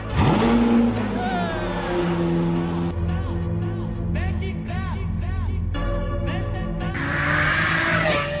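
A Lamborghini SVJ fitted with a new Valvetronic exhaust revs hard and loud, with rising engine sweeps followed by a series of sharp, rhythmic throttle blips and pops, close to the listener and continuous throughout.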